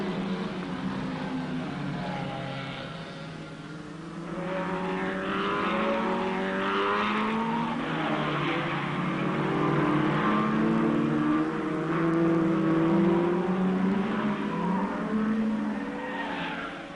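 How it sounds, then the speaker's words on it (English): Ferrari GTO and Shelby Cobra race cars compete in the 1964 Tour de France Auto, engines revving and rising in pitch with tire squeal, loud and sustained with no talk. "The GTO Ferraris of Tavano and Bianchi alongside Trent's Cobra."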